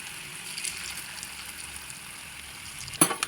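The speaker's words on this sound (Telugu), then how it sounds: "దీన్ని కొన్ని కొన్ని తీసుకుని ఆయిల్లో డీప్ ఫ్రై చేసుకుందాం" Potato mixture deep frying in hot oil, a steady close hiss and bubbling throughout, ending with a brief louder splash-like burst near the end.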